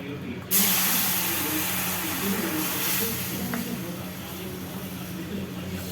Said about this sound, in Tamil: தண்ணி கொதிச்சாச்சு